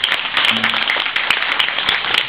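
An audience claps steadily in a dense, loud wash of applause at a pesantren gathering honouring a visiting professor, sustained throughout with no pauses.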